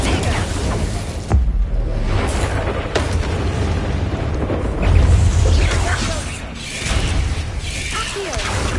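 Incendio fire spell explosions from Hogwarts Legacy combat burst out repeatedly, with heavy booms roughly every two seconds over a dense, continuous roar of game effects.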